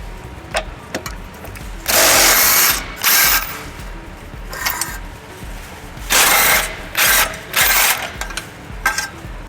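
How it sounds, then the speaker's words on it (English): Ratchet wrench with a 17mm socket turning out tow hook bolts on a 2015 Toyota Highlander, heard as several bursts of quick clicking, close and loud, separated by short pauses. "using a 17mm socket, we're gonna remove 2 bolts holding the tow hook"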